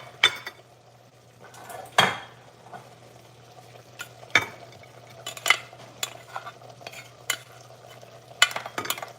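Dishes being washed by hand, with pots and cutlery clattering in sharp, irregular knocks over a steady low hum, close by and with no talk.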